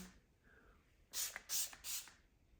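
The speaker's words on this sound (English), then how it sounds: "the final would be a little bit of setting spray" Three quick hissing spritzes of a makeup setting spray bottle, close and fairly loud, after a quiet moment.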